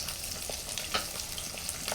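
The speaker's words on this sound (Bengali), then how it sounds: "মাছগুলো একটু ভাজা হয়ে গেলে এখন হচ্ছে আমি একটু উল্টিয়ে দেবো আর একটু ভালো করে ভেজে" Swarputi fish frying in oil in a pan for a tomato and eggplant fish curry, a steady close crackling sizzle with small pops throughout and no voices.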